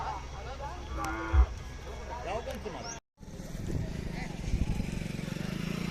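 Khillar cattle and young bulls low and moo amid a busy outdoor crowd at a cattle fair, with people talking and an engine rumbling in the background.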